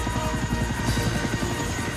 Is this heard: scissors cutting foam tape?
no